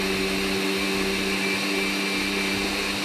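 Electric blender whirring steadily at high speed while mixing kabab ingredients, a loud continuous motor hum with a slight pulsing rattle, alone without talk.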